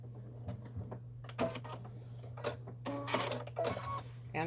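A sewing machine backstitches over its earlier stitches on a bag in short, rattling bursts of needle clatter, over a steady low motor hum.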